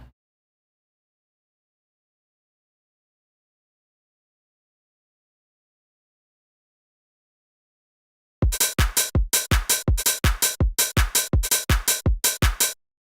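After a long silence, a simple FL Studio template beat kicks in: punchy drums, bass and a lead repeating in a steady, fast loop, loud and close.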